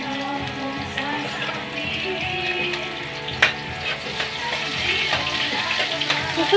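Garlic and onion sizzling and crackling in a hot pan, a steady dense fry with scattered pops and clinks.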